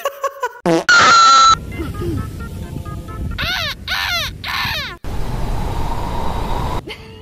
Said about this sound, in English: It was seagull.